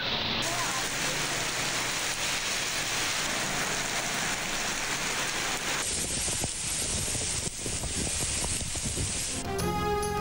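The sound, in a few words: rain falling, with thunder, in Lahore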